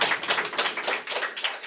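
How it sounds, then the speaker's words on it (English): Audience applause after a talk at a cultural center gathering, a steady dense patter of many hands clapping close by, continuous without a break. "Big round of applause."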